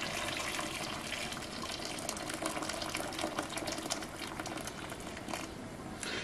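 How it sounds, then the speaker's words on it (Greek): Water pours into a pot over one kilo of peeled potatoes, a steady, soft splashing gush that runs without a break throughout, with no talking. "Θα καλύψουμε με νερό."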